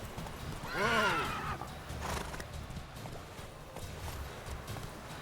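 A horse in the video game The Witcher 3 gives a loud whinny over rapid hoofbeats, then keeps galloping with a steady thudding rhythm at moderate volume.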